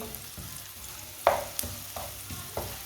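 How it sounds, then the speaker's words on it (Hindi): Finely chopped onion fries in hot oil, a soft continuous sizzle with periodic scraping strokes of a spoon stirring the pan, close and without talk. "एक बारीक कटा हुआ प्याज, इसे भी 2 मिनट के लिए भून लेंगे"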